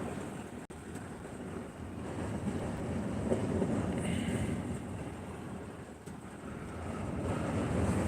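Strong outdoor wind whips and buffets the microphone, a steady, rough rushing noise that swells and eases without letup and has no clear talking over it.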